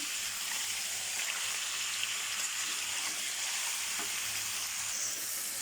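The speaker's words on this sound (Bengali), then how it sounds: "এখন লবণ আর হলুদ দিয়ে এগুলোকে কিছুক্ষণ ভেজে নেব" Vegetables frying in a pan with salt and turmeric give a steady, dense sizzle that runs unbroken throughout, with faint stirring scrapes underneath.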